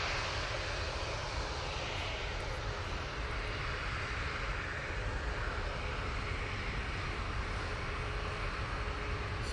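A Ryanair airliner departs Manchester for Oslo, making a sustained, even engine roar with a low rumble underneath and no voices.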